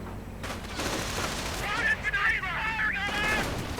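Bursts of Thompson submachine gun fire ring out during a 1v1 video game battle against Grenadiers, rattling continuously beneath a commentator's voice.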